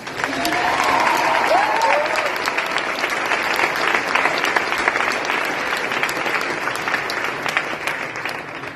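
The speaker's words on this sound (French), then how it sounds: "Donc allez-y, applaudissez-vous." Graduating students and school staff applaud in a hall with sustained, dense clapping that holds steady throughout, with a few brief whoops rising above it.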